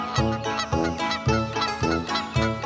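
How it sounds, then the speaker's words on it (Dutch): Swans on a pond give repeated loud, nasal honking calls, about five evenly spaced bursts close by. "Daar zitten mijn trots, mijn 4 zwanen."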